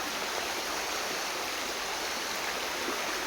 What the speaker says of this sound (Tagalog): Meron ditong sapa na mababaw lang.